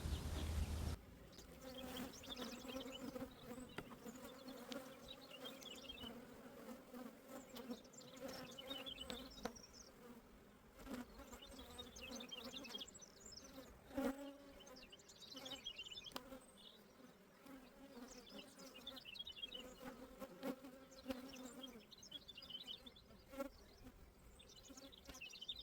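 A honeybee colony hums with a dense, continuous buzz during a hive inspection, individual bees droning close by over the steady background of the hive.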